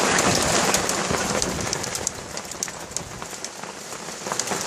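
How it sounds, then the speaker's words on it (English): Hail pelting down onto water, a dense, steady hiss of countless small impacts with scattered sharper ticks, loud and continuous throughout with no talking. "We're gonna have like an inch of hail in there anytime."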